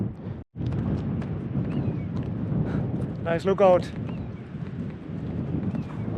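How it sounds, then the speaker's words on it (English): Wind buffets the microphone with a constant low roar on an exposed hillside on the Isle of Skye. A person speaks briefly partway through. "it's a bit windy here"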